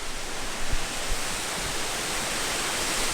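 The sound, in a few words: waterfall in Corsica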